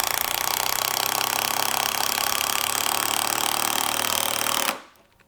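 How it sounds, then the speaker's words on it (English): A Milwaukee Fuel power tool on an XC 5.0 battery roars at full speed in a dense, continuous mechanical whine for several seconds, then cuts off abruptly and winds down into quiet. "Let's see how fast this fuel tool can do it."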